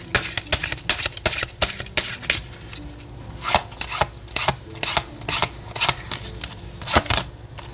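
Oracle cards being shuffled by hand, a steady run of crisp riffling and rubbing bursts repeating throughout, close and fairly loud with no voices.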